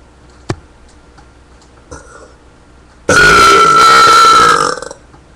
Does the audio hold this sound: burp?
yes